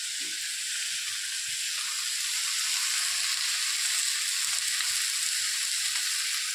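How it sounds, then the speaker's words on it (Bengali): Onion and green chili fry in hot oil for a fish curry, a loud, steady, bright sizzle and hiss that runs unbroken from start to finish, close up with no talk. "ওই নিংড়ে মাছ প্রথম তেলের উপর পেঁয়াজ কাঁচা লঙ্কা আর একটু ফোড়ন দিয়েছি"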